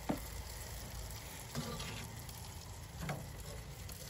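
An onion on the grill at a deer camp in Morgan County, Georgia sizzles steadily and quietly, with a few faint ticks and pops heard over the continuous frying hiss.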